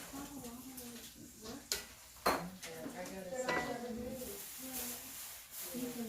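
Mushrooms simmer in a pan with a soft steady hiss, broken by a few sharp clinks of a utensil against the pan, while a person talks quietly over it.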